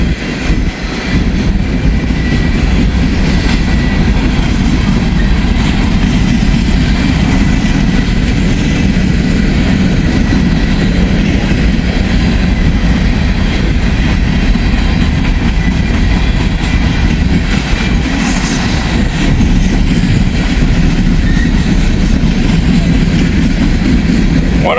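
Freight train hauling a long string of hopper cars rumbles past close by, a loud continuous roar with faint rhythmic clatter of wheels on rail joints throughout.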